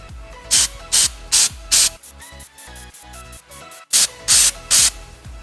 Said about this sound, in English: 10 to 15 sprays of sensor cleaner onto hot wires or hot plate